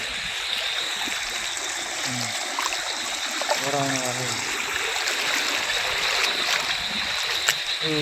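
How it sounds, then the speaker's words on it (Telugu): Floodwater flows along a stream at night in a steady, moderate rush of water, with a voice talking briefly in the middle. "చూడండి ఎట్లా పోతుంది వరద"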